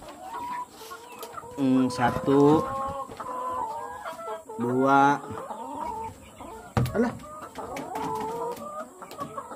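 Chickens cluck and squawk close by while eggs are gathered from a farm coop, with bursts of agitated calls between quieter stretches and a person counting aloud over them.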